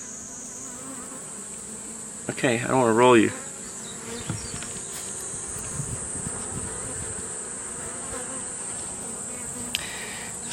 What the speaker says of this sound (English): You can hear their bees when they get loud.